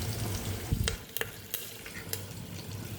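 Dried red chillies fry in hot oil for a spice tempering. The sizzle is soft and steady, with a few sharp clicks and scrapes from stirring in the pan. No one speaks.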